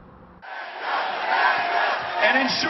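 A rally crowd cheers and roars at an anti-Trump event with Beto O'Rourke, a sustained loud wash of voices that swells after a brief quieter start and holds steady to the end.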